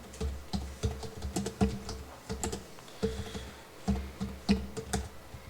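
Typing a search on a computer keyboard, rapid uneven bursts of close key clicks and thumps with short pauses between, no voices.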